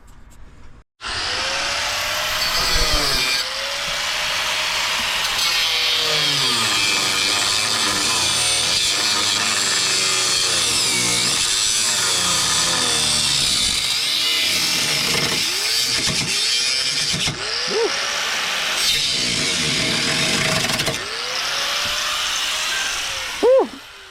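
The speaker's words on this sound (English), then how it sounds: "we're gonna cut this here piece out" A rusty crossmember on a Chevrolet Silverado being cut out with a power tool, a loud sustained grinding whine for about twenty seconds with pitch dips and swoops as the blade bites the metal, close and without talk.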